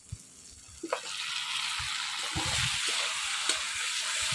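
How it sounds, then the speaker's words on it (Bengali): Potatoes frying in oily spice masala for a Bengali katla fish curry, a few clunks as they are added, then a rising, continuous close sizzle with occasional stirring scrapes, no talking. "আলু দিয়ে একটু কষাবো"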